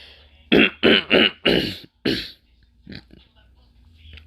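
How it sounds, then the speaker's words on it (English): A burst of four quick, harsh coughs close by, followed by one more cough and a few softer throaty sounds trailing off. "I don't know why I keep coughing."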